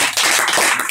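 An audience at a rap show in Helsinki applauds at the close of the performance, a loud, dense patter of clapping heard close up that fills the whole moment.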